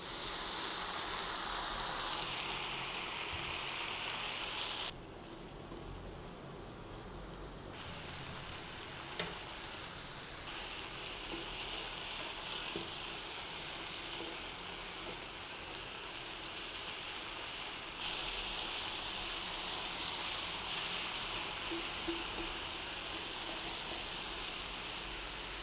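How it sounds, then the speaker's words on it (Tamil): Drumstick leaves (murungai keerai) cooking down in a pan with a splash of water, giving a steady close hiss and soft sizzle that runs continuously with small shifts in level. "இப்போ நல்ல கீரை வதங்கி வருது."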